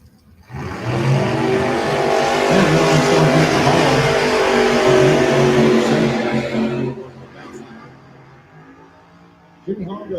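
A 1976 Chevy Camaro and a 1968 Dodge Dart launch hard at a drag strip, engines roaring loud and sustained for several seconds before fading off as the cars pull away, with a brief burst of noise near the end.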